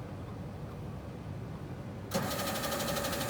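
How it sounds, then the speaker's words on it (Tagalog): An ATM whirs at close range after a quiet wait, its dispensing mechanism starting abruptly with a steady mechanical rattling hum that continues to the end. "Yun, tumunog na yung ATM"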